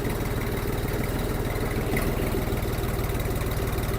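A four-wheel-drive Jinma 244 tractor with a three-cylinder KM385 engine idles close by, a loud, steady low throbbing chug with an even pulse throughout and no voices.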